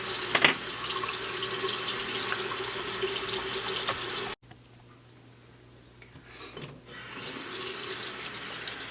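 A makeup brush rinsed under a running tap, a steady close stream of water into a sink that cuts off abruptly midway, then resumes after a short quiet gap with a few small knocks.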